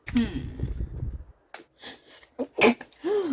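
A sharp, sudden sneeze bursts out near the end, preceded and followed by close voices talking.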